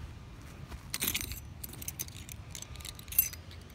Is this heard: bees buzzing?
no